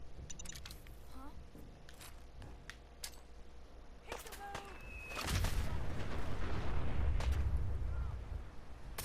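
A Fat Man mini-nuke detonates in Fallout 4, a sudden loud, deep roaring blast that swells partway through and rumbles on to the end, following quieter game sounds and brief sharp noises.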